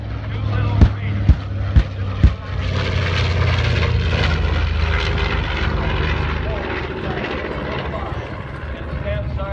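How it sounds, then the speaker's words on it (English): A North American twin-engine WWII medium bomber with its bomb bay doors open flies past at an airshow, a loud steady propeller drone filling the scene after a few sharp bangs near the start. "this North American twin-engine bomber, medium-range bomber with the bomb bay doors open"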